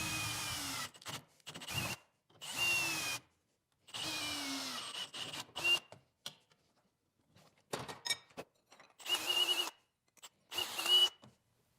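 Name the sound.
power drill drilling holes in metal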